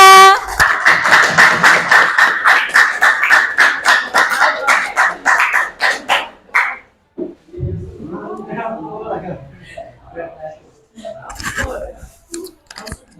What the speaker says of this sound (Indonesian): Beri aplaus dulu buat kita semua